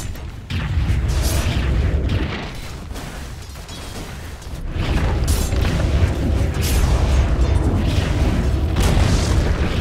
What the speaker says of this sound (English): Dire's top tower has fallen